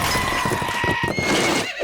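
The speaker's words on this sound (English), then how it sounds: "Gallop like the wind horse, Jimmy's in trouble." A cartoon horse whinnies loudly over a busy music-and-effects bed, with a scatter of clip-clop hoofbeats galloping underneath for under two seconds.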